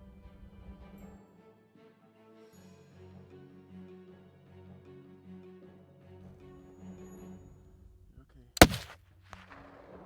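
A single loud rifle shot cracks out during a mule deer hunt in Montana, sharp and close after several seconds of low wind and quiet rustling, with a brief echo trailing off.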